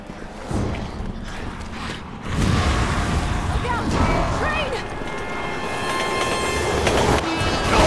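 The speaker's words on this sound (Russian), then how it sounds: "С какой стороны тот гребаный поезд ехал" A train passes in Resident Evil, a loud rolling rumble with clattering wheels that swells after a couple of seconds and holds steady, with a horn-like tone toward the end.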